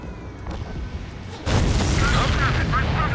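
An air-combat missile launch in Ace Combat 7 arrives as a sudden loud roaring blast that swells over the low engine drone and sustains to the end.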